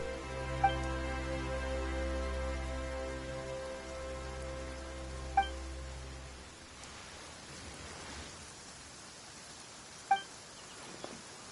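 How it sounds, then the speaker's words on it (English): Rain falls in the video game Genshin Impact during a Fontaine Archon Quest scene, a soft, even patter under a low droning tone that stops partway through, with a few faint clicks. "Why is it raining all of a sudden?"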